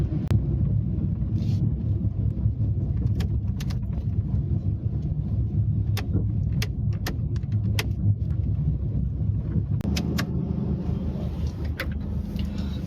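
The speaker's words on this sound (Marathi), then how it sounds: "चला आता थोडंसं एक राऊंड मारू आणि गाडी पण टेस्ट करून घेऊ." A car cruises along on a test drive after servicing, with a steady engine and road rumble throughout and occasional sharp clicks and knocks from inside the cabin, no one talking.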